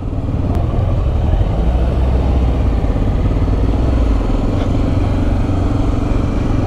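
Several motorcycles rumble steadily at a motorcycle meetup in Boa Esperança, a loud, continuous engine drone close by with no break across the whole stretch.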